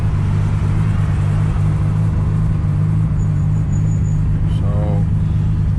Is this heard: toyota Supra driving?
yes